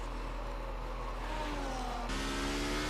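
Race car engine in a racing video game sweeping down the pit straight at Zandvoort, a steady high whine rising in pitch and then jumping louder as the car draws close, with no talk over it.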